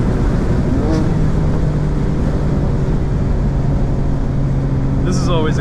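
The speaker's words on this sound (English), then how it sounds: "Downshift on that tunnel." A 2024 BMW M4 engine drones loudly inside a city tunnel under steady road rumble. A quick rise and fall in revs near the end marks a downshift.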